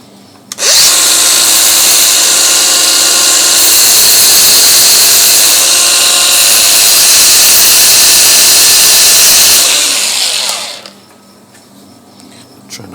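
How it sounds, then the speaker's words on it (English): A lathe turns an old bolt head during restoration: a loud, sustained whirring and grinding starts abruptly, holds steady for about ten seconds, then fades away, leaving a quiet background. "now for the next part we're going to do the bolt head itself with the lathe turning."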